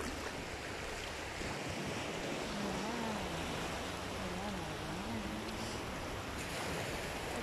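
Sea surf rolls onto the beach at Zandvoort, a steady broadband wash with wind buffeting the microphone, while people talk faintly in the background.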